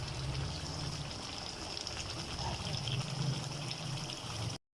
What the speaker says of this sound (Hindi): हम इतनी देर में पानी बॉयल रखते हैं